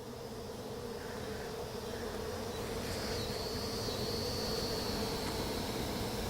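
Honey bees buzz in a dense, continuous drone during a beehive inspection, close and steady throughout with no talking.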